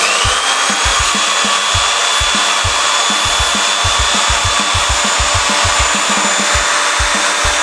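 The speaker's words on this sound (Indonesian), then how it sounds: "saat mesin bor ini dioperasikan dengan tanpa beban." A Tosita TS-10VRB cordless drill driver whirring steadily with no load, a constant high-pitched motor whine with a faint rhythmic knocking underneath.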